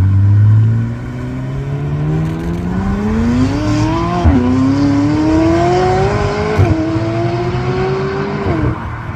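A BMW M140 pulls away hard from a Cars&Coffee meet in Luxembourg, its engine note climbing loud and close through several gear changes, each marked by a brief dip before the pitch rises again.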